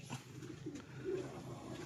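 Soft, low pigeon coos, a few brief murmuring calls over a steady background hum, fairly close.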